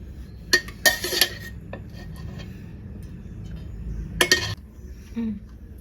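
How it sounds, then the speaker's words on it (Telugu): Oil is spooned into a pan to start a Nellore-style fish curry. A few sharp metallic clinks and scrapes of spoon on pan stand out over quiet background noise. "ముందుగా ఒక 5 స్పూన్లు నూనె వేసుకోవాలండి"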